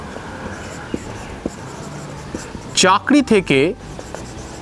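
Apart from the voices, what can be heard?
writing on a board during a grammar lesson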